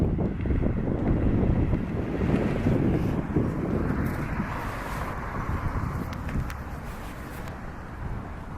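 Strong gusting wind buffeting the microphone, a loud continuous roar that rises and eases slightly, with no voices present.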